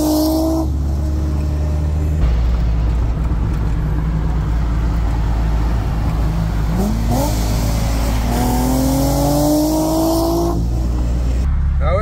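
Car engine revs hard and close through an exhaust with a small hole leaking at the bottom, a loud sustained roar whose pitch climbs and falls over several throttle blips, with voices faintly mixed in.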